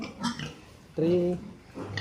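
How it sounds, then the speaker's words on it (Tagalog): Fattener pigs on a farm grunting, one loud drawn-out grunt in the middle with quieter snuffling before and after, close by, while someone talks. "Ito pong mga baboy"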